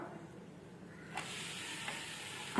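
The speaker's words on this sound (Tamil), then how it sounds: "தோசையை அப்படியே திருப்பி போட்டுக்கலாம்" Egg dosa sizzling on a hot pan just after being flipped, a steady close frying hiss that swells a little partway through, with no talking.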